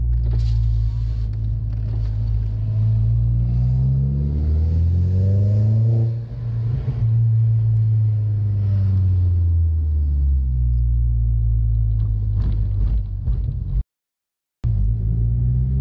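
Seat Leon Cupra R 1.8t turbo with a decatted 3-inch Cobra turbo-back exhaust, heard from inside the car: a loud, deep engine rumble that rises and falls as it revs and accelerates, with a brief cutout near the end.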